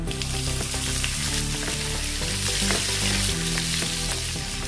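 Steady, loud sizzling of onions frying in hot oil with mustard seeds and cumin, continuous crackle and hiss with occasional stirring scrapes, no voices.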